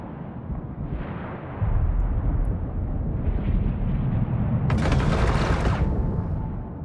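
A ship under fire in the space game EVE Online, heavy rumbling impacts and booming weapon bursts rolling in over a low engine drone, with one brighter crackling blast near the end.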